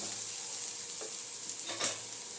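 Coriander and Kashmiri chilli powder sautéing in a pan for a Jharkhand-style potato and chickpea curry, a steady soft sizzle with a couple of faint stirring scrapes near the end, no talking.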